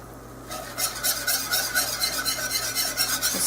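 A whisk rapidly stirring a beef stew base in a pot, rhythmic metallic scraping strokes close up, starting after a brief quiet moment and continuing steadily.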